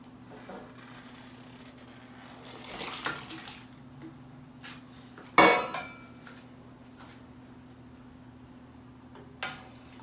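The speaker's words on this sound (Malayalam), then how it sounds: "ഇനി വെന്ത പരിപ്പിനകത്തേക്ക് ഈ പച്ചക്കറികൾ ഇടുക." Vegetables go into a pot of cooked lentils for Kerala sambar, heard as a few scattered clinks of a metal pot and utensil, one sharp clatter at mid-point, and soft splashy rustling in an otherwise quiet kitchen.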